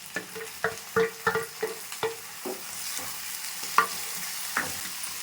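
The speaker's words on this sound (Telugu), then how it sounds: "ఇప్పుడు అందులోనే టమోటాలు వేసేసుకున్నాను." Tomatoes tossed into a pan of ginger garlic paste for a ridge gourd and chana dal curry, a soft sizzle broken by repeated clicking stirs of a spoon against the pan.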